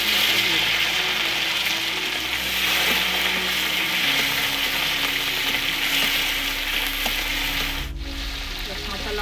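Tomatoes frying in a pan for a vegetarian chhana egg curry with vegetables, giving a loud, steady sizzle throughout with occasional stirring clicks and scrapes, and no talking.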